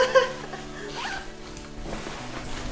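A short zipper rasp on an off-road motorcycle touring jacket near the start, close and fairly loud, followed by soft rustling of fabric.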